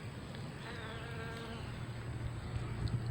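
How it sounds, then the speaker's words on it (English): A bumblebee buzzes steadily at close range while feeding on ground ivy flowers in a pasture, with a continuous low droning hum that holds for a few seconds and wavers slightly as the bee shifts position. "There's another bumblebee."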